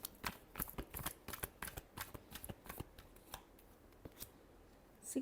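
Tarot cards being shuffled, a quiet, close run of quick riffling snaps and flutters in uneven bursts, with no talking.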